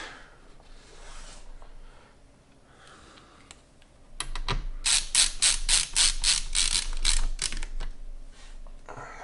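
Ratcheting screwdriver clicks rapidly while driving screws into a compact Lian Li A4-H2O PC case, a close burst of dense mechanical ticking that starts midway after a quieter stretch of faint handling.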